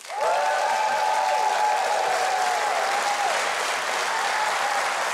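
A theater audience applauds steadily to welcome magician David Ferrari on stage at the Legends Theater in Orlando, a dense, sustained clapping with faint whistle-like tones riding on top, lasting several seconds without a break.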